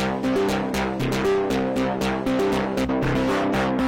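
Heavy fuzz distortion on a rhythmic plucked line: dense, buzzy repeated notes with sharp attacks, loud and saturated, played alone without voices.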